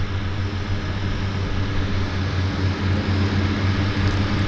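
A floatplane takes off from Vancouver harbour, its propeller engine droning loud and steady at full power across the whole stretch, with no voices.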